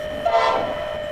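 A CSX freight train on the Bone Valley line, hauling a trainload of phosphate rock, sounds a sustained horn blast that swells briefly over steady rail rumble.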